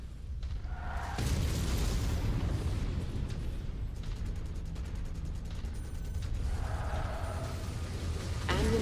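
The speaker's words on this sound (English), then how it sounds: "Oh, that's got the AC-20 burst fire." Heavy AC-20 autocannon bursts from a battle mech in MechWarrior 5 Mercenaries, thudding shots and booming explosions rolling continuously at close range, loud and dense with mechanical rattles between blasts.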